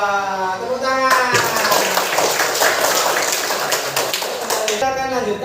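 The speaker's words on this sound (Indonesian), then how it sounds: "Tepuk tangan." A burst of hand clapping, several people applauding together for a few seconds, with a voice speaking just before and after.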